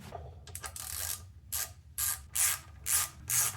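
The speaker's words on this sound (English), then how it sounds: "So now I'm just gonna wipe the area and put the drain plug back on." A ratchet clicks in a series of short bursts, roughly five in an even rhythm, while the oil drain plug goes back into a BMW E46 M3, close and clear with no talking.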